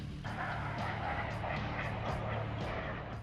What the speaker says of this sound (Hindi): ये है वो चिनूक हेलीकॉप्टर।